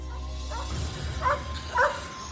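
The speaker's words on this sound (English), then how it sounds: "I swear, that dog." A dog gives two short, fairly faint barks a half-second apart over a low background hum, with no one speaking.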